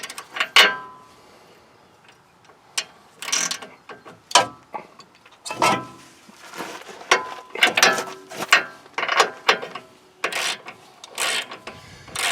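A wrench works loose the 21 mm ball joint nut on a Nissan Titan lower control arm, giving a series of near, sharp ratcheting clicks and metallic clanks in irregular bursts with quiet gaps between them.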